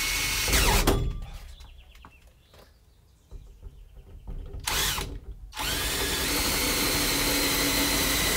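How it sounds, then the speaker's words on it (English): A power drill with a hole saw cuts through the painted metal wall of a Sprinter van, grinding loudly in two bursts, then settling into a steady, high whirring drone. "you end up having almost every hole saw size there is"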